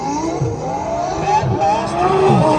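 A twin turbo Lamborghini Huracan making over 1,600 horsepower roars at high speed, its engine note climbing in pitch as it accelerates, loud and steady throughout with a hint of tire noise.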